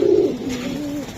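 A Giribaj pigeon coos close by, one low, rolling call that wavers and trails off over about a second, with no other sounds around it.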